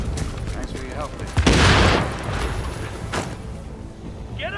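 Gunfire in Tom Clancy's The Division: a loud crackling burst of shots and a boom stand out mid-clip amid scattered firing and game ambience, with voices talking over parts of it.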